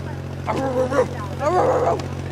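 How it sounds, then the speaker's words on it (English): A dog at a Dew Tour snowboard streetstyle event at Copper in 2023 gives two drawn-out, whining barks about a second apart, fairly close, over a steady low electrical hum. "We got some dog barking going on up there."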